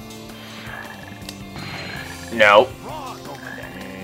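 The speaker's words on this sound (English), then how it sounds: "There's a frog over there." Frog croaks from the Sonic Heroes video game ring out over game music and sound effects, with one loud warbling croak standing out amid the steady gameplay audio and a brief spoken word.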